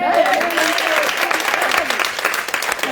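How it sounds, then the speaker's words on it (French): A church congregation at a women's conference claps in sustained, dense applause for a pastor being welcomed, steady and fairly loud across the whole stretch, with some voices mixed in. "On donne l'applaudissement pour elle"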